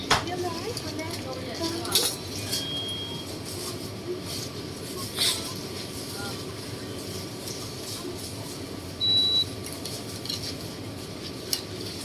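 Faint sizzling of eggs puffing up in a hot pan amid a busy background, with occasional clinks of utensils and brief voices nearby.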